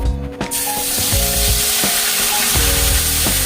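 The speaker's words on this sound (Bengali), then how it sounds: "পেঁয়াজ বাটাটা এখন আগে দিয়ে দেবো" Onion paste hitting plenty of hot oil with a bay leaf for a koi fish and cabbage dish, a loud, steady sizzle and crackle that swells and fills the whole stretch, up close.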